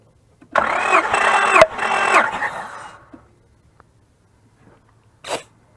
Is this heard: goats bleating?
no